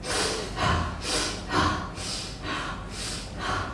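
Fast, purposeful breathing exercise, a steady run of about seven forceful breaths in and out in an even rhythm, close and loud with no talking.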